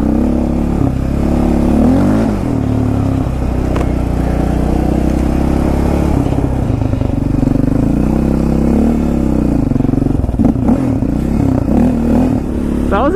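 A Yamaha Raptor quad ATV rides through 3 to 4 inch deep snow on a bike trail, its engine loud and close, droning and revving continuously with shifting pitch and occasional clattering.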